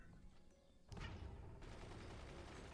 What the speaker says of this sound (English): that's another mortar landing